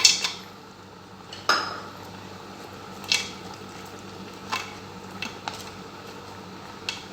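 Dry fava beans and chickpeas tumbling into a cooking pot, making several separate clattering knocks and rattles a second or two apart, close and fairly quiet, with no talking.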